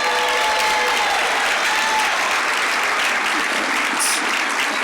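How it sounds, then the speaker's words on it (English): A round of applause at the 2024 Forty Under 40 evening event, with a large room clapping in a thick, continuous wash, loud and steady throughout, and a faint murmur of voices mixed in. "Get a round of applause"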